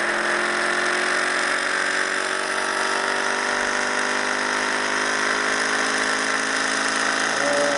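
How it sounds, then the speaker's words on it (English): An Orbo motor driven at 19 volts runs with a steady, continuous whine and hum that holds an even level the whole time, alone with no talk. "I'm going to run this up to the same 19 volts like on the Thomas motor and watch what happens"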